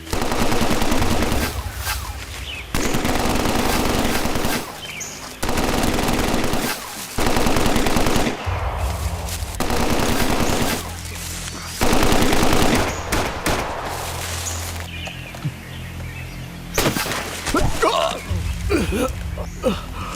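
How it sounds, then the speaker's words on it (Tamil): Machine guns fire in sustained, loud bursts during an action movie shootout, with rapid gunfire repeating in blocks across the scene and brief gaps and scattered shots between bursts. "சுடுங்க அவனை."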